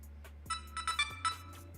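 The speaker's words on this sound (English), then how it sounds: "my phone never shuts up" A mobile phone rings quietly with a short run of bright, chiming tone bursts over a low steady hum, with no voices.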